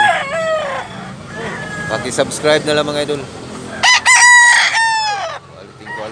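Several Tasmanian Hennie gamecocks crow in Tabunok, Talisay, Cebu, with repeated loud, close cock-a-doodle-doos alongside clucking while someone talks over them.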